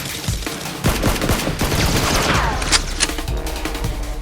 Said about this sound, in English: Rose and the henchmen stop and fire at SEAL X, wounding him